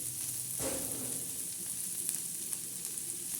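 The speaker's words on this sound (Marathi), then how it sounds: "हे बघा आपली मिरची कशी तळत आहे" Green chillies frying in a pan, giving a continuous hissing sizzle with a brief louder burst near the start and a few faint clicks afterward, with no talking.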